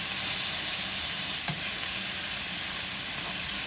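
Beef frying in a pan in its own fat with no added oil, for kebab: a steady, even sizzle with broadband hiss holds throughout, with one brief small click partway through and no talking.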